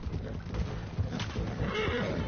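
A horse in the video game Red Dead Redemption 2 lets out a loud whinny over rapid hoofbeats as it gallops, with a voice talking alongside.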